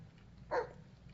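A single short dog bark rings out once in the Blair Witch video game, faint and somewhat distant over a quiet low background.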